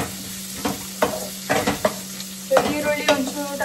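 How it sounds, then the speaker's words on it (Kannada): Finely chopped onions fry in a pan, a soft sizzle broken by repeated bursts of spoon scraping and stirring against the metal, close up, with a faint steady hum underneath. "ಈರುಳ್ಳಿ ಒಂಚೂರು ಟ್ರಾನ್ಸ್ಲೂಸೆಂಟ್ ಆಗೋ ತನಕ ಫ್ರೈ ಮಾಡ್ಕೊಳ್ಳೋದು"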